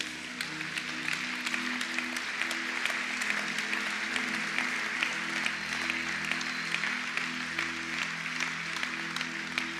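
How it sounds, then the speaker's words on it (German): A church congregation claps during a Sunday service, a dense, even round of applause that keeps going without a break for about ten seconds, with no one speaking over it. "wieso klatscht man"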